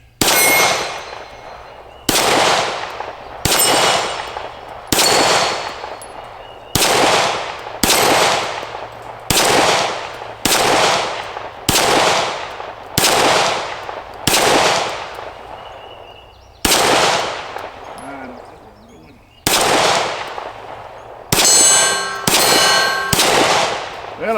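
Smith & Wesson SD9 2.0 9mm pistol firing at steel targets outdoors: about fifteen loud, sharp shots at a steady, unhurried pace, each followed by a bright metallic ring from the struck plate, with a short pause partway through and no talking.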